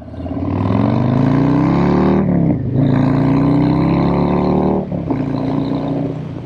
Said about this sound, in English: 117 cubic inch Milwaukee 8 engine